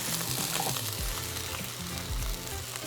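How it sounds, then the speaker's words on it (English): Fried rice sizzles in a hot pan and is stirred, giving a steady, close frying crackle with soft scraping from the stirring. No one speaks. "And continue cooking and stirring for another 5 minutes or so."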